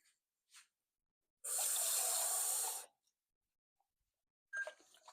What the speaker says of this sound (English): you can just add a little bit of water to this can.